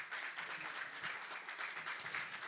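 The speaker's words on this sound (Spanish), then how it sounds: "Dele fuerte un aplauso al Señor." A church congregation claps vigorously in praise during a bilingual service, a fairly faint but busy patter of many hands with slight surges in rhythm throughout.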